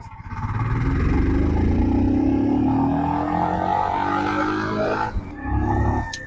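A Royal Enfield Scram 440 motorcycle accelerates hard in second gear toward about 60, its engine note rising steadily and loud and close for most of the run before a brief dip and recovery near the end, with no talking.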